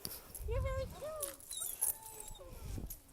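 A small dog yips and whimpers in short high-pitched cries nearby, several quick whiny barks scattered over a few seconds, fairly faint, with a person talking at the same time.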